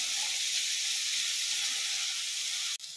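Sliced chillies for veg fried rice sizzle in hot oil in a pan, a steady loud frying hiss throughout, broken by a brief stir near the end.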